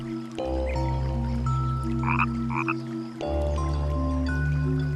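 Outdoors, a frog hunted by a tiger keelback snake gives two long, loud, low croaks separated by a brief pause, with a few faint higher chirps between them.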